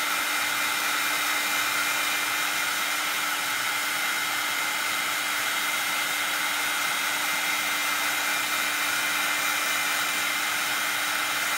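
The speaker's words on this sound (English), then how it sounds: "So you're going to just move your heat tool around." An embossing heat tool blows hot air to melt embossing powder on a handmade Christmas card, producing a constant, close, dryer-like whir with a faint steady tone and no voices.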